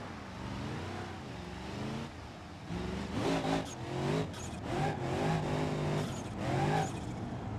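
A car in BeamNG revs hard in repeated rising and falling pulls, its engine note climbing and dropping several times at moderate loudness, with brief pauses between bursts.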